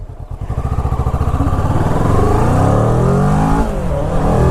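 A 2016 Kawasaki Ninja 650 motorcycle engine revs up loud and close, its rapid pulsing putter climbing steadily in pitch as the bike accelerates, then holding a strong drone.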